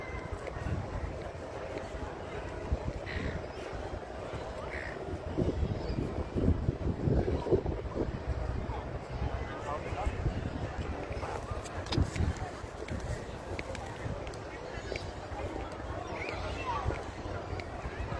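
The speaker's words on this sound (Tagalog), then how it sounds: "Yung mahangin at malamig dito sa labas." Steady wind buffets and rumbles against the microphone outside the Sydney Opera House, with faint tourist voices in the background.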